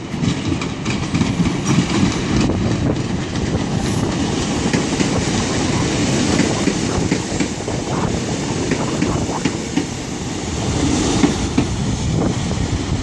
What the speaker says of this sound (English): we've got another train coming in